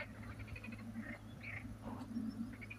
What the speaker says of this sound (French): Regardez comme on entend les grenouilles.